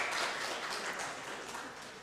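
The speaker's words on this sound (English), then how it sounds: "Let's give a round of applause for our speakers" Audience applause after speakers finish at an English-language academic talk event, a steady broadband wash of many hands clapping, fairly even and sustained throughout, gradually easing slightly toward the end.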